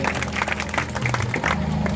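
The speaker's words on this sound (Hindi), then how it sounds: "इस परिवार की जोरदार ताली बजाएं और हमारे ग्राम जावरा के लिए भी जोरदार ताली बजाएं" Villagers at a religious discourse clap loudly together over a low steady hum, the applause coming in uneven bursts from the gathered crowd.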